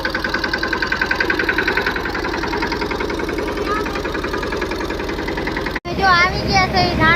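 A tractor's steady diesel engine chugs loudly with a rhythmic knocking throb on a coriander farm, continuing until a sudden cut, then a brief burst of other sound.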